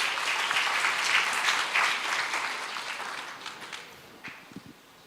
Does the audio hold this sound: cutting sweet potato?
no